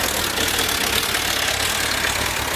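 A 2000 Suzuki Bandit 1200 motorcycle engine idling, a loud, steady, close-up rumble with a slightly noisy mechanical clatter and no other sounds.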